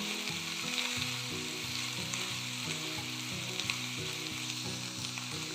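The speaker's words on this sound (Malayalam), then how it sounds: "സബോള അരിഞ്ഞത് ഇട്ടു" Chopped onion hits hot oil that already holds ginger-garlic paste and sizzles loudly and continuously up close, a dense frying hiss with faint stirring and a low hum underneath, no voices.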